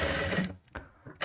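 Sewing machine stitching a katori blouse, a fast whirring buzz that runs for about half a second, stops, then returns in short bursts close by.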